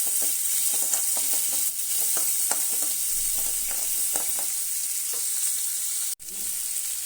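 Small onions and vadagam sauté in oil for a Tamil fish curry, giving a bright steady sizzle close by with light rhythmic stirring clicks and one brief break near the end. No one speaks.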